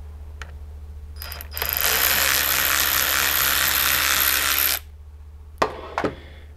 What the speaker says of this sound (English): there's an Allen set screw. That's a size 3. We're gonna go ahead and remove that.